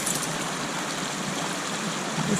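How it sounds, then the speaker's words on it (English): A stream flows at Lake O'Law and Trout Lake, a steady, close rushing of water that stays even and unbroken throughout. "Just sit and listen to that water."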